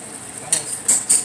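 A spoon stirs elbow macaroni in a pot, with three sharp metallic clinks against the pot's side over a soft background hiss, close and brief.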